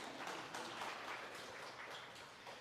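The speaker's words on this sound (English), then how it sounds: "Give Miss Marcy a round of applause." An audience claps for Miss Marcy at a K9s For Warriors June 2022 class graduation in Ponte Vedra, Florida. Dense, steady applause from many hands fills the room for a few seconds, with no voices.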